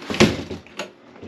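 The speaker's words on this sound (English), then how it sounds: "the door just shut" The door of a fifth wheel trailer shuts on a homestead, a sharp close knock followed by a couple of softer rattling bumps as it settles, with no voices.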